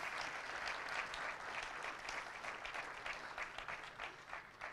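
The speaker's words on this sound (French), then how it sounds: "Je pense qu'on peut l'applaudir bien, bien fort pour simplement lui dire merci." An audience in a lecture hall at an agriculture conference day applauds warmly, sustained rapid clapping from many hands that stays full and steady from start to finish.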